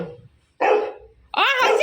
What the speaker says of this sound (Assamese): একেলগে থাকে তথাপি ভুক ভুক কৰি থাকিব